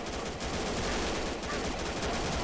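Sustained assault rifle fire in a first-person shooter game, a dense continuous rattle of rapid shots with no pauses, loud and close throughout.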